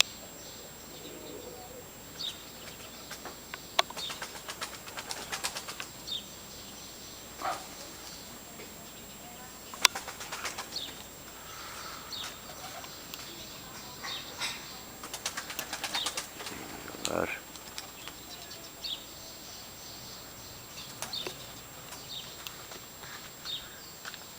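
Home pigeons in a loft, mostly perched because they are moulting, giving soft scattered coos, wing flaps and scuffling clicks at low level, with a faint steady background hiss.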